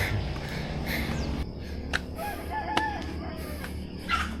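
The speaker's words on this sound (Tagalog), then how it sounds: "Ay, manok pala." Chickens clucking and calling nearby, a few short clucks and a brief crow-like call over a steady outdoor background, moderately close.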